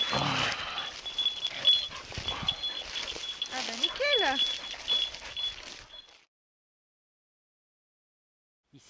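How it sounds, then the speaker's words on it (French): Hunting dog out in the field during a September hunting season, with bark-like bursts and a rising, whining tone amid rustling and voices for about six seconds before the sound cuts to silence. "Ah mais là il y a la chienne."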